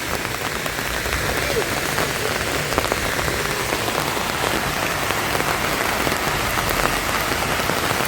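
Steady rain pattering densely on surfaces, an even continuous wash of drops close by without a break.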